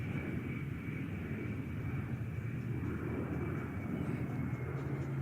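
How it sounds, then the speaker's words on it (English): An A-10 Warthog jet flying a demonstration at the 2024 Tampa Bay airfest gives a loud, steady engine roar with a faint high whine, sustained throughout without a break. "this capability enables the Warthog to turn quickly and evade enemy air defenses"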